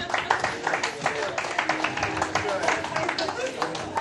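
Audience applause for participants leaving the stage at a hypnosis show during an after party, a steady patter of many hands clapping close by with a few brighter individual claps standing out.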